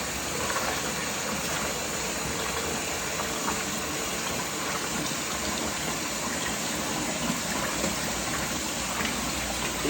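Warm water gushing steadily into a container to dissolve salt for rehydrating a salted deer hide, a loud continuous rushing pour that runs unbroken throughout with no talking.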